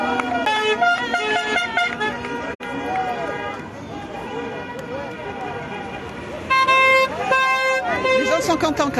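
Car horns toot repeatedly at a toll booth left free to pass through, short bursts and longer blasts over road traffic, with people talking nearby.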